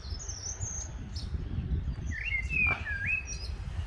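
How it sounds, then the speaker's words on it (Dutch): A blackbird sings outdoors beside a roadside verge, its clear whistled phrases sounding moderately distant over a steady low rumble of background noise. "Maar dat is dus een merel en dat vind ik zo mooi."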